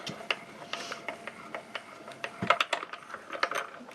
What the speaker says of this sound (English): Top plate on, and run it through the machine.